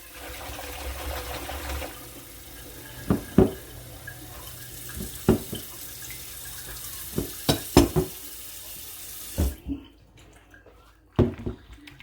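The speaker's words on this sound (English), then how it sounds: "So the next step now is to rinse it and wash it in a little bit of soapy water." Water running from a tap into a sink during rinsing and washing in soapy water, a steady close splash broken by several sharp knocks and clatters before the flow stops near the end.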